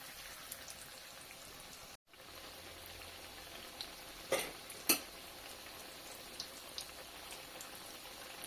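Pitha frying in hot oil in a wok over a low flame, a soft continuous sizzle with scattered small pops and a brief break partway through, close but fairly quiet, no talking.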